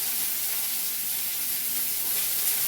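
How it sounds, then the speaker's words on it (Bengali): Chopped garlic, green chili and onion frying in hot oil, a loud, dense, continuous sizzle and hiss with no pauses, heard close up and alone. "এবার তেলে দিয়ে দিচ্ছি রসুন কুচি, কাঁচা লঙ্কা কুচি আর দিচ্ছি কিছুটা পেঁয়াজ কুচি।"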